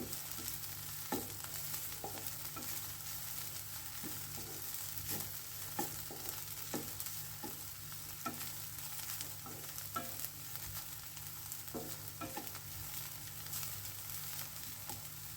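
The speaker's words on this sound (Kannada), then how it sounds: "ಇನ್ನೊಂದು ಫೈವ್ ಮಿನಿಟ್ಸ್ ಹೀಗೆ ಫ್ರೈ ಮಾಡಿದರೆ ಸಾಕು" Cluster beans (chavalikayi) fry in a pan, giving a steady sizzle with a low hum beneath it and repeated soft clicks and scrapes as a spoon stirs them, close and continuous for the whole stretch with no voices.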